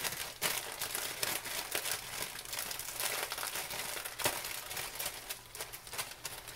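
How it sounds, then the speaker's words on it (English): Plastic bag of spinach crinkled and rustled by hand in a kitchen, continuous close crackling with sharp snaps, no talk. "then now you get your spinach, your bag of spinach"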